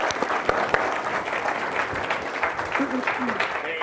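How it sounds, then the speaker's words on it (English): An audience gives a round of applause welcoming Congressman Meeks at a fireside chat event, a few seconds of steady clapping with voices talking over it. "We might have a round of applause."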